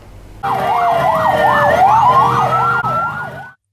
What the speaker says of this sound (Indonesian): Puluhan barisan pemadam kebakaran tiba di lokasi dan mengepung titik api.